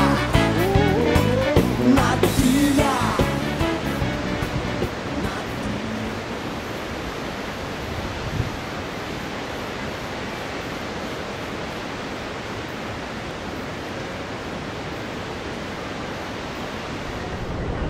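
The Iguaçu Falls, a wide chain of cascades, give a constant broadband roar heard from a trail, steady for most of the span after a brief burst of louder mixed noise and voices at the start.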